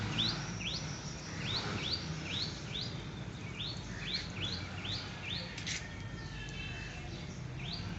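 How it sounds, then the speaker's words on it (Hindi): Birds chirp in a large tree on a quiet morning, giving repeated short bright calls in uneven bursts over a steady low background hum. "इसके ऊपर आपको परिंदों के चहचहाने की आवाज़ें तो ज़रूर आ रही होंगी"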